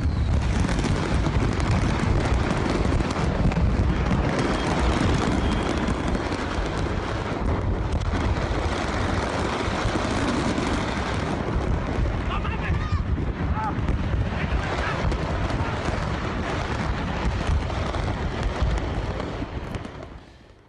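Huge chain of explosions at the Tultepec fireworks market in Mexico during the Christmas season, a dense, roaring wall of booms and rumble that stays loud and continuous for about twenty seconds before fading, with wind noise over the microphone.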